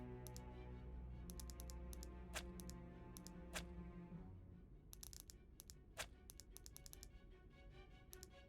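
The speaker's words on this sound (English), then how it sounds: "I say as I start typing in the manga name." Fingers type on a computer keyboard in quick bursts of key clicks with short pauses between, fairly close and clear over a soft background hum.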